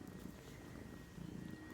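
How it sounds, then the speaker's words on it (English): A cat purrs close to the microphone, a soft, low, continuous rumbling that rises and falls slightly with its breathing. "No, just busy purring."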